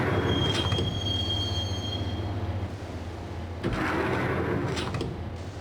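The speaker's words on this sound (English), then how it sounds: "the train doors had already shut behind me, and I was in for the ride" Interior rumble of a subway train ride in the Max Payne video game, with a steady low hum, a thin high wheel squeal in the first half, and brief metallic clatters and screeches near the end.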